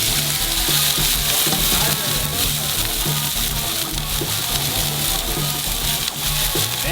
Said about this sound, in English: Time to get these veggies on the flat top of the Gorilla Grills. Gonna throw some avocado oil down. Let's toss them on.